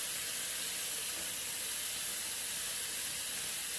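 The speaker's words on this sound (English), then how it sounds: "Alright, I'm going to pour my bacon on there now." Bacon hitting a hot frying pan while Scottish rumbledethumps are being cooked gives a steady, fairly loud broadband sizzle and hiss that holds evenly throughout, with no talking.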